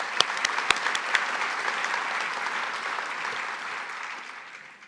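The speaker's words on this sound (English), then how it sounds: "Can we have a round of applause for him?" A ceremony crowd honoring a Marine Corps veteran at a veterans recognition event breaks into sustained applause, dense and steady clapping that swells quickly and tapers slightly toward the end, with a few sharp claps standing out at the start.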